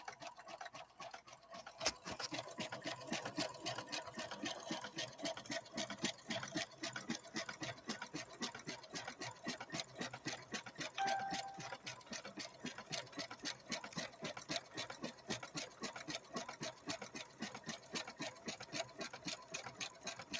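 A Brother LB-6800 embroidery-capable sewing machine stitching two layers of thin velvet, running continuously with a fast, even ticking rhythm, soft and close, with no talk.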